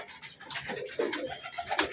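Domestic pigeons coo softly in a loft, a few low, murmuring calls layered over faint shuffling and rustling, close by and fairly quiet.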